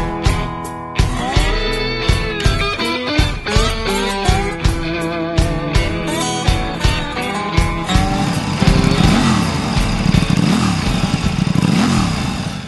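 1000cc hypersport motorcycles on the Mirval race circuit, heard as a rapid series of sharp engine revs and gear-change bursts, loud and close, followed by a sustained roaring pass.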